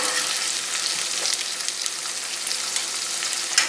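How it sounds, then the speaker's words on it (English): Alaskan pollock saltfish frying on a stove gives a loud, even, close hiss of sizzling oil with faint crackles and a small knock near the end. "turn on the stove a little bit more and start cooking up the fish."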